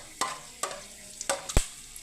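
Whole garam masala spices (star anise, cinnamon, cloves and cardamom) frying in hot oil for tomato rice, with a soft sizzle under four sharp, spaced stirring scrapes of a spoon in the pan.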